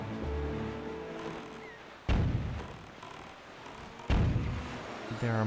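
Two booming cannon blasts from the fortress in The Legend of Zelda: The Wind Waker, about two seconds apart, each a sharp thump with a rumbling tail over a steady game soundscape.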